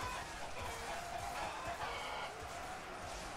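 Ultimate Epic Battle Simulator sound effects of chickens clucking in a massive battle of thousands of chickens, penguins, orcs and soldiers, a continuous dense clatter of bird calls at moderate loudness amid noisy background.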